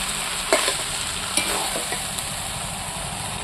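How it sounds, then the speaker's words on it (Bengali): Fried potatoes are stirred into a nearly dry mutton curry in a pan, with a few scraping strokes over a loud, steady sizzle and no voice. "এবারে আমি ভাজা আলুগুলো তুলে দিচ্ছি, আবারও আমি নাড়তে থাকি"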